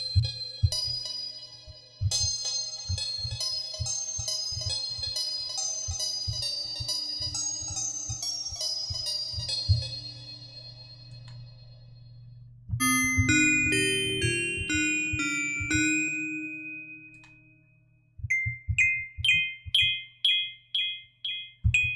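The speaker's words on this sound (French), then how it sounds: "donc les petites cloches." Small bell tones from a preset on the Sonivox Stratum synthesizer ring in bright melodic runs over a pulsing low beat, then shift to clear tinkling strikes with long decays, playing alone with no voice.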